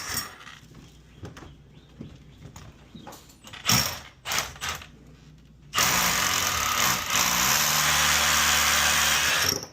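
A power drill bores a hole for a ductless unit installation, with scattered knocks and short bursts first, then a loud, continuous drilling roar through the final seconds.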